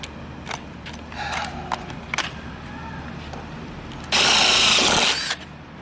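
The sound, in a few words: power drill drilling 3/16 holes in Jeep XJ pillar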